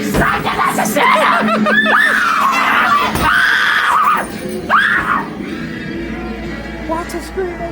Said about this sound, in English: Lots of screaming.